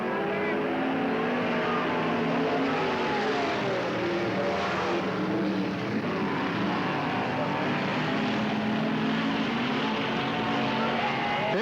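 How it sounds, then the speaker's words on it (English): Race cars roar continuously around a dirt oval speedway at a 1991 race in Cottage Grove, a loud, dense engine drone with the pitch rising and falling as the cars pass, under crowd noise. "Bruce Ray, car 98, into the lead."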